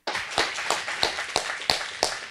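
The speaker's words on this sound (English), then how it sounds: "let's do a round of applause" A small audience claps for guest lecturers at an evening public course session, a sparse round of about seven distinct, fairly close hand claps spaced evenly over two seconds, with no voices over them.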